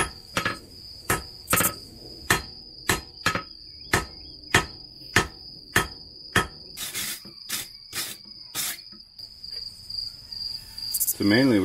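A hammer strikes forge-welded Damascus steel on an anvil, a steady run of sharp ringing blows, about two per second at close range, that thin out toward the end.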